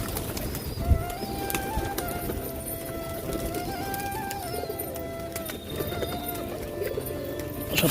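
Rampuri pigeons coo softly in their loft during feeding time, their low, throaty calls mixed with scattered taps, flutters and a light thump of movement nearby.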